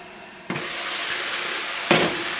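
Onions sizzling and frying steadily in a covered pan, a dense broadband hiss with two sharper bursts as the pan is disturbed, close and fairly loud with no talking.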